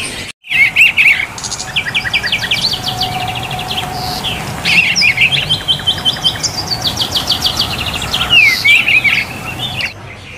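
Caged songbirds at the Pramuka bird market chirp and trill without pause, loud and close, with many overlapping bright calls and repeated tweets layered over a low market hum.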